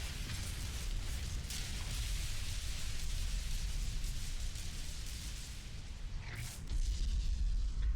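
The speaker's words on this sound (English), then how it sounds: "Damn, the gravestone is exploding." A gravestone explodes in the sci-fi role-playing game Star Wars: The Old Republic, heard as a sustained deep booming rumble with a louder surge near the end, with no talking.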